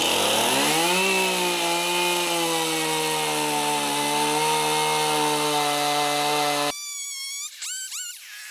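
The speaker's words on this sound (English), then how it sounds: "we're going to go out there and get the chainsaw going" A chainsaw cuts wood while building a giant wooden mallet. Its loud, steady engine drone climbs in pitch early and holds for several seconds, then cuts off abruptly, leaving a few brief squealing tones.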